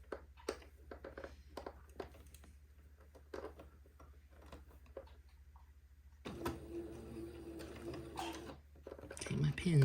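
A sewing machine faintly stitches entredot lace onto the neck opening of a baby garment, heard as quiet, irregular mechanical ticks and clicks that grow into a busier, denser whirr toward the end.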